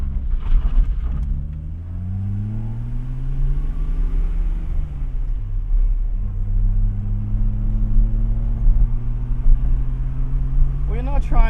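A JDM car cruises steadily along rural back roads in Middle Tennessee, its engine a continuous low rumble with smooth rising and falling tones as it shifts, close and dominant throughout.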